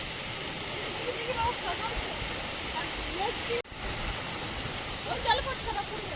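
Rain falls hard during a storm as a dense, continuous rushing hiss, like running water. One sharp click breaks the steady wash partway through.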